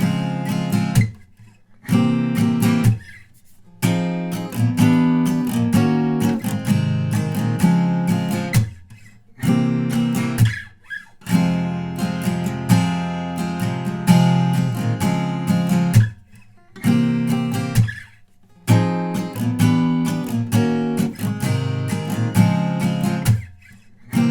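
Guitar chords of a song strummed in a steady driving rhythm, close and fairly loud, broken by a few short pauses between phrases.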